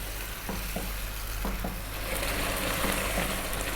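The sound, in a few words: stirring simmering beef in pot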